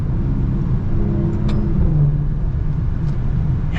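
A 2021 Maserati Ghibli S GranSport runs with its engine rumbling loudly and steadily while the 8-speed automatic makes quick downshifts, heard from inside the car.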